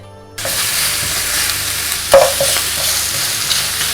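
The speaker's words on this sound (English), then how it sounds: "And then fry the lamb with a medium-high heat" Lamb pieces frying in a pan over medium-high heat for Xinjiang lamb pilaf, a steady loud sizzle starting abruptly after a quiet moment, with a sharp clink of a utensil midway and occasional stirring scrapes.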